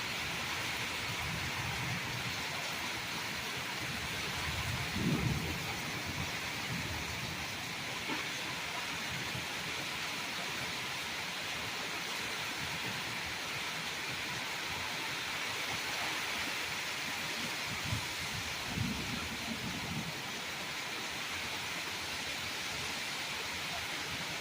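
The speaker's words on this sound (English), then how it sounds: "I can see the sheets of rain." A thunderstorm rolling in brings heavy rain falling in sheets, heard as a steady, broad wash of downpour with a few low rumbles and bumps, and no talking.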